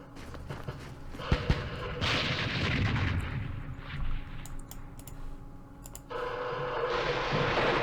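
Mortar fire and explosions in the Campaign Series Vietnam war game, Battle of Hue: sharp booming impacts followed by sustained rumbling blasts and crackling gunfire, loud and dense throughout.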